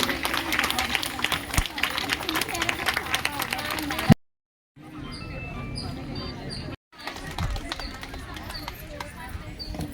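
A crowd at a devotional satsang picnic gathering claps for a small honouring of Smt. Kondamma, dense steady applause with voices talking over it, briefly cut to silence midway.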